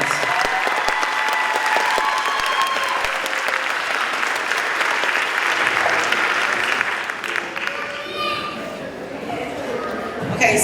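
A school ceremony crowd, Ann Visger's 5th grade moving-on event in River Rouge, claps in a sustained round, with voices and chatter mixed in as the applause gradually fades.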